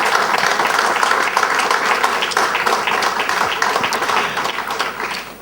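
Loud, dense applause from guests at a farewell dinner, continuous and close, holding steady before easing slightly at the end.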